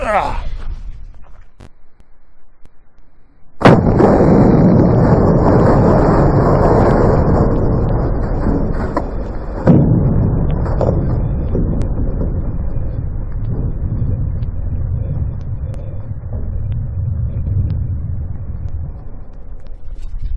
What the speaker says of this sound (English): One round, one-handed shot.